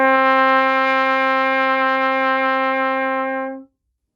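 A single sustained low D on a brass band instrument, blown easily and evenly, a clear steady tone with rich harmonics held about three and a half seconds, then cut off cleanly, with no voices.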